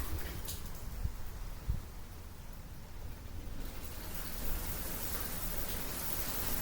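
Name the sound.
rain falling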